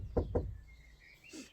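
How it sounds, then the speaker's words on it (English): Two firm knocks on a wooden cottage door, close and distinct, followed by faint bird chirps in the background. "she knocked on the door"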